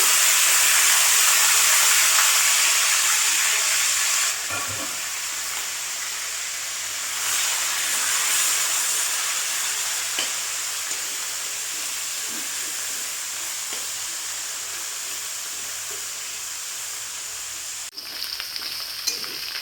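Loud, continuous sizzle of chicken pieces frying in oil in a wok for chili chicken, the hiss dipping after a few seconds then carrying on with occasional spatters and a clank.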